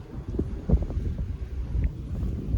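Strong wind buffeting the microphone near a wind turbine, a continuous loud rush with gusty low rumble and no talk.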